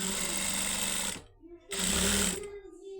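A sewing machine runs along the edge of the fabric in two short, loud, close bursts of rapid stitching, with a brief pause between them.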